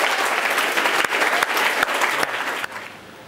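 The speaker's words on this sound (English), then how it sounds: "Big round of applause for Grangefield Academy." Applause for award winner Grangefield Academy at a school enterprise awards event, a loud crowd clapping in a dense continuous roar with a few sharp hits, tapering off in the last moments.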